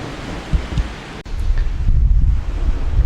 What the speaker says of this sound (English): There's the North Pier and the very calm, relaxed Irish Sea